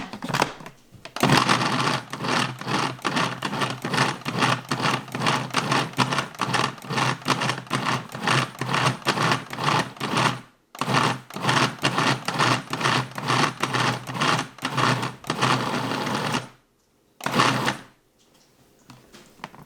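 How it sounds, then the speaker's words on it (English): A food processor pulses cubed butter into a coarse crumble for a keto Thanksgiving recipe. The motor whirs in rapid, rattling bursts that run in long stretches, broken by a few short stops near the end. "We're gonna add it in here and then give it a good pulse until we get that coarse crumble consistency"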